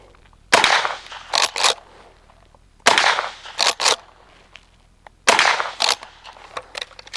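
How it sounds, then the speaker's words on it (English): Three loud, sharp reports from an unsuppressed lever-action .357 fitted with a muzzle brake, each blast followed by quick clacks of the lever cycling, fired outdoors at a steady pace of roughly two and a half seconds apart. "I'm just going to fire some rounds unsuppressed so you can hear how loud it is."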